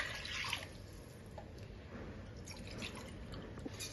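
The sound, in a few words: water being poured into rice in a pot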